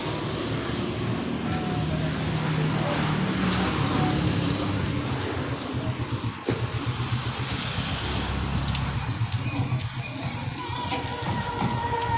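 Steady road traffic at a crossing fills the scene, a continuous wash of car, truck and motorcycle engines with passing rumbles and no talk.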